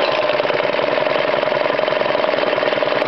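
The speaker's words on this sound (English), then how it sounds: "That's better. That's a nice slow idle." A small Honda engine idling slowly after its carburetor jets were replaced, a steady, even mid-pitched drone with a faint regular knock, running alone and loud without variation.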